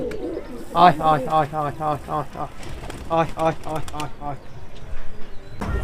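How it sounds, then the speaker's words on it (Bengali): Pigeons coo close by on a rooftop in repeated throaty bursts, with a brief flutter of wings near the end. "এখন সব কবুতর বাইরে চড়ছে"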